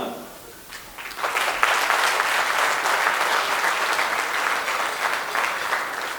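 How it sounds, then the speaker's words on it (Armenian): Wedding guests at an Armenian celebration break into loud, sustained applause that swells after the first second and holds steady, with a host's voice speaking faintly at the start. "Եկեք բարձր ծափերով մեկնարկենք մեր տոնական երեկոյի սկիզբը"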